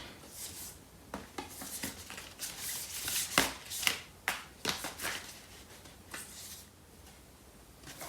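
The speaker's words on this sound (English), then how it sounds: "next I'm going to pull out a card for this other person" Tarot cards being shuffled and drawn from the deck during a reading, a series of close, crisp riffling and snapping bursts with short pauses between them, no talking.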